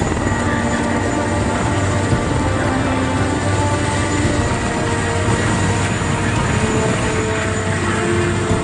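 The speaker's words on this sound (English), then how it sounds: "Mauricio Reyes is the first to be airlifted off the mountain." Rescue helicopter airlifting crash survivors off a mountainside, a steady loud rotor and engine roar that stays constant and close throughout, with no voices.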